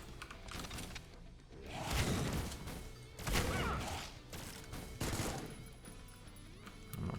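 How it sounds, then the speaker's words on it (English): Rapid alt-fire bursts from a weapon in the shooter game Supplice, several loud clattering volleys in quick succession, rising and falling through the stretch. "So usually you can just use the alt fire,"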